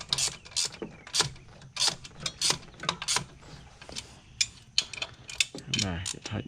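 A ratchet tightens cam install bolts on a 2V engine with repeated quick clicking bursts at close range, mixed with metallic handling noises.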